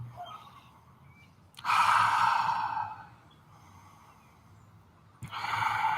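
Two deep, audible breaths during a yoga pose, each a long airy exhale rising and fading, heard close and quiet with a gap of stillness between them.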